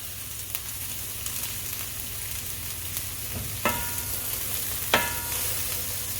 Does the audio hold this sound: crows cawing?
no